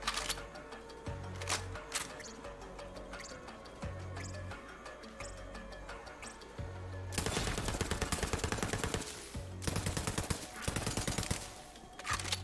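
Gunfire in the video game Borderlands 3, with rapid automatic bursts and single shots that come in loud clusters, punctuated by heavier thuds and pauses, growing dense and sustained toward the end.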